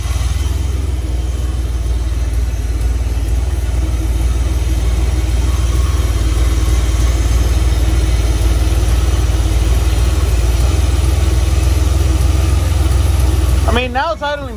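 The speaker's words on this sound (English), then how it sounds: "now it's idling better" A DeLorean DMC-12 engine, fitted with mechanical fuel injection, idles loud and steady for the whole stretch, a low rumbling drone that rises briefly near the end, with people talking over it.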